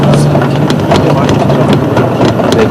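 A loud, steady tractor engine rumbles and idles close by, a continuous low drone with faint rhythmic ticking.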